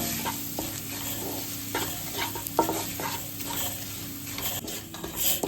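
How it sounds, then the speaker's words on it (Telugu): Crushed garlic and chili paste sizzling in hot oil for garlic rice, a continuous close fry with soft stirring scrapes and light taps against the pan, no voices. "ఈ ముద్ద వేసుకొని కలుపుకోవాలి ఈ ఆయిల్లో. ఇది కూడా వేపుకోవాలి."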